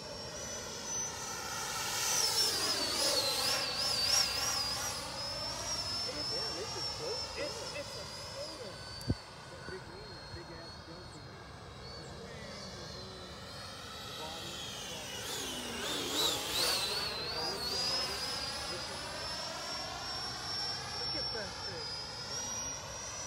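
A Freewing 90mm F-22 RC jet roars past with afterburners lit, its engine whine rising and falling in two long Doppler sweeps as it banks through sharp turns in front of spectators, with people chatting throughout.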